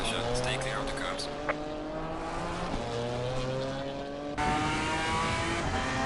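A GT4 race car engine in a racing video game, held at a steady droning pitch through laps with gear changes and a brief tyre squeal, loud and continuous while someone talks over it.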